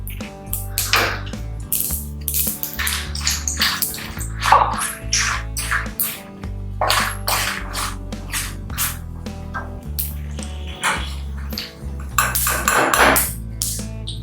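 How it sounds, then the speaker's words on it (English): Mushrooms, tomatoes, mustard seeds and dried red chilies are stirred in a pan for a mushroom curry-leaf korma, with repeated metallic clinks and scrapes of a spoon against the pan over steady background music. "Now I am going to saute mushrooms and tomatoes, mustard seeds, dried red chilies,"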